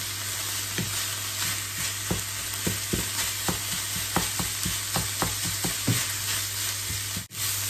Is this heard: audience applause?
no